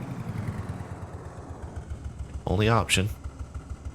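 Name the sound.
tractor engine idling, from video game Farming Simulator 22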